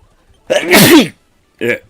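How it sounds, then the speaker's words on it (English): A single loud, close sneeze with a sharp voiced burst, followed by a brief vocal sound afterward. "Sorry for the sneeze there, I didn't manage to mute the mic in time"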